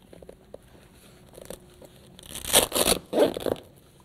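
Velcro closure being pulled open on an Alpinestars SMX 6 vented motocross boot, a few loud close ripping tears, with quieter fiddling beforehand.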